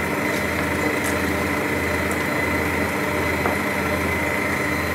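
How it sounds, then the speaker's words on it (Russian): An electric mixer whirs steadily at low speed, mixing flour into batter for a summer Charlotte cake, with a constant motor hum and a faint rhythmic beater pulse throughout. "Перемешиваю на невысокой скорости, чтобы мука не поднялась в воздух."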